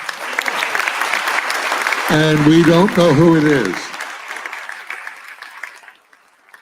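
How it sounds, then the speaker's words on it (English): Audience applause at a live #HomeRun4Julian tour event at ICCNC, a dense continuous clapping that swells mid-clip while someone speaks over it, then fades out near the end. "I think that person deserves a round of applause."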